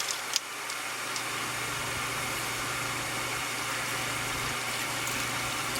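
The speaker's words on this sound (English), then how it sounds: "It's pumping now." The pump of an oil-fired 40-gallon hot water heater runs steadily with a constant low hum and broadband whir, a single small click near the start, and no voices.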